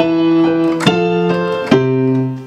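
Piano plays the Wedding March in full chords: three sustained, resonant chords struck in sequence, each ringing on before the next, close and clear with no talking.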